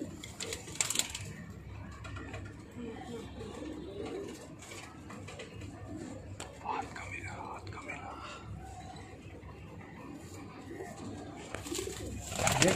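Madrasi pigeons in a loft in Barrackpore, Kolkata give soft, low cooing and rustling throughout, with occasional wing flutters and faint bird calls, under quiet murmured talk.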